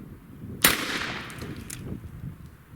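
A single air rifle shot fired at a crow target about 15 yards away outdoors cracks sharply. Wind noise and faint rustling follow it.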